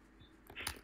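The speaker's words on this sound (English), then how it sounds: "hardcore typing sounds." Quick burst of computer keyboard typing during a live band stream, a short cluster of close clicks rising near the end after a quiet stretch.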